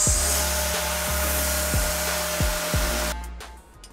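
Milling machine taking a thou or two off the wall of a carabiner production fixture: a steady loud whirring hum with a series of regularly spaced ticks, then the machine cuts off and spins down near the end.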